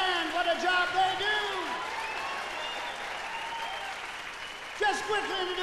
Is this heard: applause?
yes